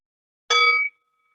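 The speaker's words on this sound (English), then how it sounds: "with the sound of a bell." A meditation bell rings once, a bright metallic clang with ringing overtones that cuts off after about half a second, alone in silence.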